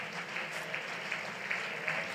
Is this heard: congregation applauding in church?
yes